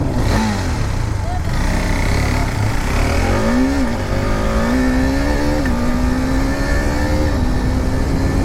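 A KTM RC 390 motorcycle engine revs loud and steady in a drag race, with rising and falling pitch sweeps as it accelerates, while people talk faintly underneath.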